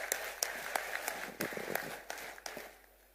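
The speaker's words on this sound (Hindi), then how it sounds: "आपसे आग्रह है जोरदार तालियों से हमारे नेता का स्वागत करिए।" A crowd at a political rally welcomes a leader with scattered applause, several separate bursts of clapping, fairly faint and thinning out toward the end.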